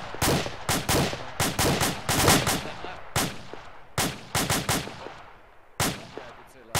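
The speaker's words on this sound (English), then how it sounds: "Suppressive fire!" Blank-fire rifles crack in a rapid, uneven string of sharp shots during a fireteam training demonstration, close and loud, with brief pauses between bursts.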